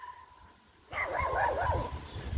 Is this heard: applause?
no